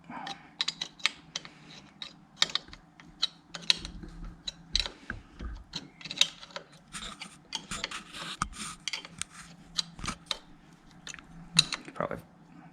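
Bolts are tightened by hand on a pit bike engine during a top-end rebuild. Irregular metallic clicks, ratchet-like scrapes and small clanks repeat throughout at close range.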